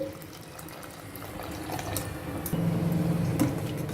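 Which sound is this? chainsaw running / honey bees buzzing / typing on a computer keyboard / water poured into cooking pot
water poured into cooking pot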